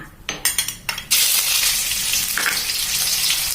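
Minced pork dropped into hot oil in a wok for a Thai noodle sauce: a few clinking scrapes, then a loud, steady crackling sizzle takes over and holds close and alone.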